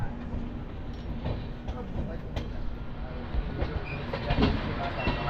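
AC Duronto Express train moving off after leaving Raipur Junction, a steady rolling rumble with clicks of wheels over rail joints, heard from inside the coach at moderate loudness.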